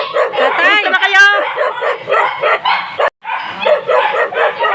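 A dog barks and yips in quick bursts close by, mixed with people talking over it, with a short gap before the barking and voices resume.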